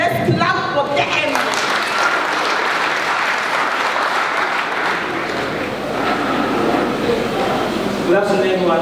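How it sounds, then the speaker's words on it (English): Sustained applause from an audience at the Tic Summit 2024 finals in a hotel hall, a dense, steady wash of clapping lasting several seconds, with a voice briefly audible near the end. "so please let's clap for them"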